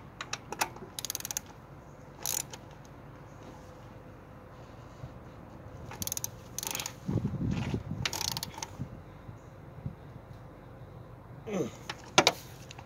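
A hand ratchet tightens bolts on a K&N cold air intake: short bursts of rapid clicking in separate spells with pauses between, close by, against a quiet background.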